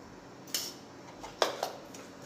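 A metal spoon scrapes and clinks against a pan while sugar caramelizes for tea, three or four sharp taps spaced irregularly over a quiet background.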